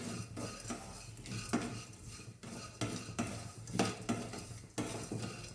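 Jackfruit seeds are stirred while dry roasting in a pan, a close scraping and rattling that comes in regular strokes about once a second with a faint sizzle underneath.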